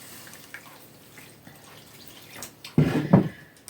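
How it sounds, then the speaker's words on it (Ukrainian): A litre of water pours briefly into a container with sugar and salt for a mackerel marinade, a short gurgling splash after a quiet stretch with faint background noise. "І на цю е, кількість цукру і солі додаємо літр води."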